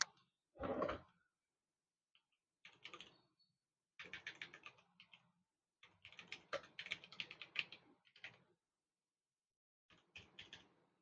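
Typing on a computer keyboard to enter a bank account number during online banking, heard as short bursts of fast key clicks with pauses between them, close and clear with no talking.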